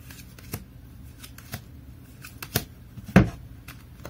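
Tarot cards being shuffled and cut by hand, a series of soft papery riffs and slaps spaced about a second apart, the last one louder and closer, over quiet room tone with no talking.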